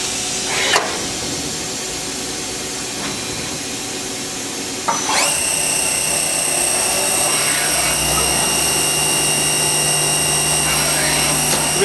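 A Tsugami S25D CNC Swiss lathe's live tool spins up to 3,000 RPM after a sharp click, settling into a loud, steady high-pitched whine with layered tones and a low hum, continuing alone.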